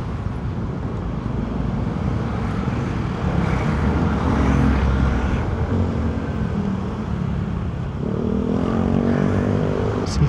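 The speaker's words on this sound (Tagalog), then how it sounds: "Sobrang traffic." Constant heavy road traffic rumbles close by, a dense roar of car and motorcycle engines with a loudness that barely varies, and one vehicle swells nearer toward the end, with no talk.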